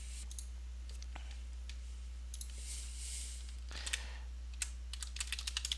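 Password being typed on a computer keyboard: a quiet, irregular run of light key clicks that grows into a quicker, sharper burst of taps near the end, over a steady low electrical hum, with no talking.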